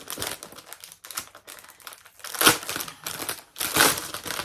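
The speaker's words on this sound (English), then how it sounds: "I'm going to take it out, excuse the rustling" Crinkly plastic packaging around a skein of West Green Loft yarn rustles and crackles in close, irregular bursts, with louder crumpling swells near the middle and end.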